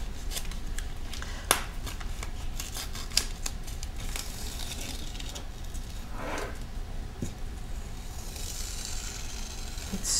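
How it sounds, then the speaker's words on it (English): Paper is slowly peeled away from a carrier sheet, giving a long run of soft crackling, ticking and tearing rustles with a few sharper clicks, close up and with no talking. "the next step is to begin to peel this away"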